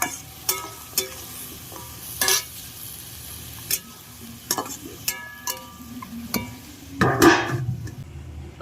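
Fish curry with ginger-cumin paste and green chillies is stirred in a sizzling pan, the spoon scraping and clinking against metal in scattered sharp knocks over a steady close fry, a louder scrape near the end.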